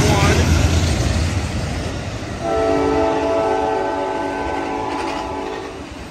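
An Amtrak Coast Starlight passenger train led by a P42 diesel locomotive passes Oakland Coliseum Station, loud rumbling and rail noise joined by a sustained horn blast partway through; a voice speaks briefly over it.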